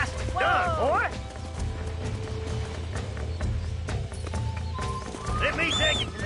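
Horse galloping in Red Dead Redemption on PS4, with a steady drumming of hooves and rumble throughout, a whinny near the start and end, and occasional voices and game sounds layered over the ride.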